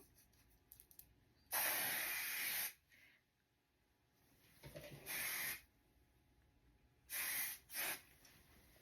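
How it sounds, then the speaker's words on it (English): Three separate bursts of hairspray hiss from an aerosol can, each lasting about a second, with quiet pauses in between, close to the microphone. "you want to use some flexible hairspray and just spray in here"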